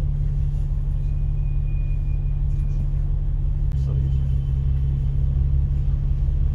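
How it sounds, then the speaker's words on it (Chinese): Hong Kong's route 15 double-decker bus, riding from Central up toward the Peak, fills the cabin with a deep, constant engine rumble and road drone, and a voice speaks over it. "现在呢，坐15路双层巴士从中环去山顶的路上啊"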